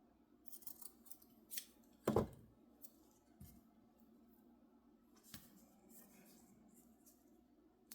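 Scissors trim lace in a few quiet, close snips, with one crisp, louder cut standing out among soft paper-craft handling sounds.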